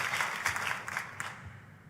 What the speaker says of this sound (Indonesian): Tepuk tangan boleh lebih dahsyat lagi buat Yesus Tuhan kita.